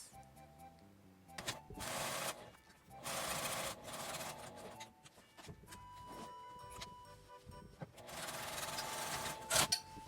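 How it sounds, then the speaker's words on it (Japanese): A domestic sewing machine edge-stitches the outer side of a fabric zipper pouch, running in several bursts of rapid stitching separated by short pauses, close and fairly loud. "表側だけ端ミシンをかけます。"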